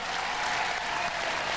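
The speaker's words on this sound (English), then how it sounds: "Give them a round of applause, ladies and gentlemen." A studio audience at a televised robot combat event applauds loudly and steadily, a dense sustained clapping with no speech over it.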